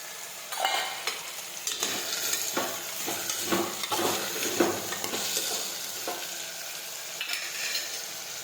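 Eggplant, potato, tomato and onion frying in a pan with spices and garlic chutney, a continuous soft sizzle broken by repeated scraping stirs and light utensil taps, close and without speech.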